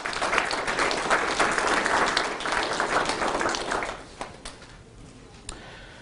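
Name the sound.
audience applause at mayor's State of the City address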